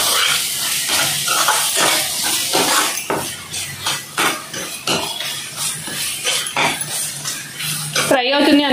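Eggplant kurma gravy frying in oil with chili powder and rock salt, loud continuous sizzling and hissing, with a utensil scraping and clinking against the pan at irregular intervals.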